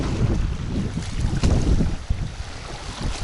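Strong wind buffets the microphone beside the water during a feeder fishing session. The gusty roar is loud and uneven, with a sharp blast near the middle and faint lapping underneath, and no voices.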